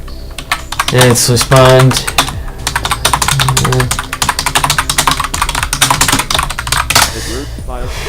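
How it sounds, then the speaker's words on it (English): Quick, clicky keystrokes rattle steadily on a computer keyboard while playing a shooter game, close and fairly loud, with someone speaking briefly over the typing and game sounds. "As I fail at typing."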